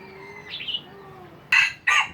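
Chickens cluck softly at first, then two loud, sharp squawks burst out close by near the end, with no talk over them.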